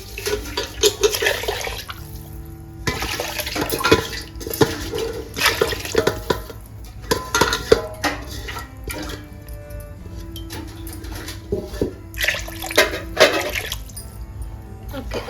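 Water is poured into a cooking pot for chicken pulao in a home kitchen, splashing in several bursts with short pauses between pours.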